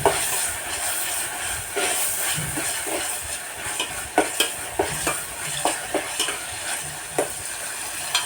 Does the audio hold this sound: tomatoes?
yes